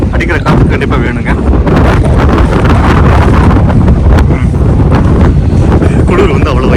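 Strong wind at the beach buffets the microphone in loud, continuous roaring gusts with rough low-end rumble throughout, the sea setting in late October with cold air.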